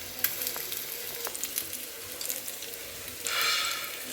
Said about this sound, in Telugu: చూడండి ఫ్రెండ్స్, చక్కగా ఫ్రై అవుతున్నాయి, పర్ఫెక్ట్గా మంచిగా వచ్చేసినాయి